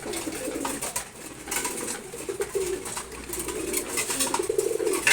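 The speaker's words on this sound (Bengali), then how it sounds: "তারপর হচ্ছে রেসার কবুতর।" Racer pigeons coo softly and repeatedly at close range, with soft rustling and shuffling in a loft around them. The coos come in low, rolling bursts without any talking.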